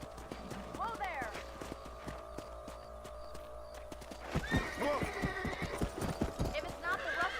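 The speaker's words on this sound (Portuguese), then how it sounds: "Já tá montando cavalo." Horse hooves clip-clop and a horse whinnies in the Red Dead Redemption video game, faint at first and then running steadily with a neigh, over background game music and voices.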